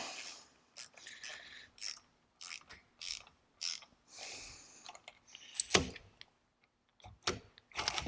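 Snap-on ratchet wrench tightening screws on an air-powered drawbar tool for a Bridgeport mill: close, crisp bursts of pawl clicking in short repeated strokes, with metallic clinks between them and no talk.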